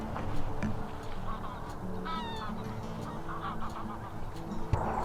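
Ducks or similar birds honk and call at dawn as they scatter and run off, a few loud goose-like honks rising over an outdoor background, fairly near, with no one talking.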